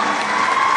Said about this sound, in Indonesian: ada tepuk tangan orang yang nyumbang